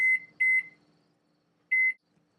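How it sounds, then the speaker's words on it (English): An oven timer goes off while brownies bake, giving short, high electronic beeps in quick pairs, then a pause and another beep, fairly clear against a quiet room. "When the timer goes off,"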